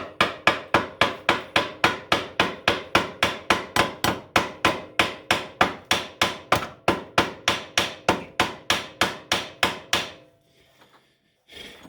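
Small hammer striking a part on a Honda 300EX ATV, about thirty sharp metallic taps in a steady fast rhythm, close and loud, then stopping into near silence.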